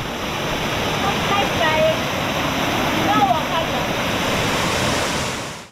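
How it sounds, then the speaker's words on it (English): Steady roar of a waterfall on a river in Africa, a loud continuous broadband rush with wind buffeting the microphone and a voice talking faintly within it. "We are here at the waterfall, and guys, look at that."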